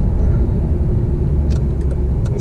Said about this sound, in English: Another one just drove past.